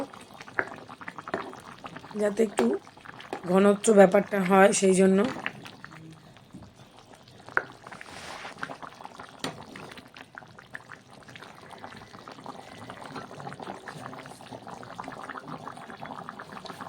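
A pot of small-potato aloo dum curry bubbles steadily at a low, close level, while a person talks over the first few seconds.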